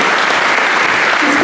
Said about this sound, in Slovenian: ampak aplavz velja